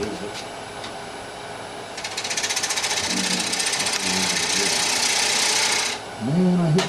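A wood lathe gouge cuts into a spinning bowl while trimming down its stem, giving a sustained, rasping, chattering hiss under a machine hum. A voice speaks briefly over the cutting near the end.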